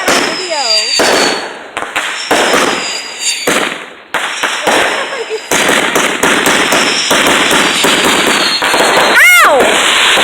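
Fireworks explode in rapid, loud, close bursts, crackling and popping back to back, while people shout and exclaim over them.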